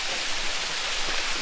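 A steady, full rush of falling water from a waterfall near Kingston, Jamaica, heard up close as a continuous broadband roar with no voices.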